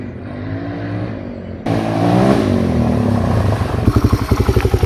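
A DRZ motorcycle fitted with an FCR39 carburetor roars close by and grows louder as it accelerates, ending in a rapid, pulsing engine note.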